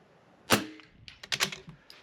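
Small-bore .22 rifle fired from a tripod-supported position during an NRL22 precision rimfire match stage, with a sharp close crack followed by a few lighter clicks and clatters of handling.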